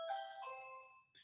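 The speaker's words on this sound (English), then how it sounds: "can you hear that? The doorbell?" A two-tone doorbell chime rings once, clear and fairly faint, its tones ringing out and fading before a short final tinkle.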